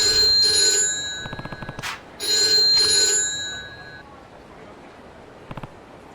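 Payphone ringing in Yakuza 3 Remastered, a loud electronic trill in two bursts followed by a faint click, with no talk over it.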